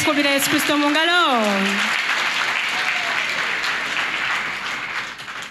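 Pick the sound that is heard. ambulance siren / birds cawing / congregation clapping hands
congregation clapping hands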